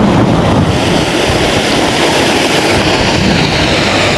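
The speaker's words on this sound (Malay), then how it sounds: "Tengok pokok hujan ni dah angin pun kuat." Strong wind roaring into the microphone on an open-water fishing trip in rainy weather, a loud, constant buffeting rush with no pauses.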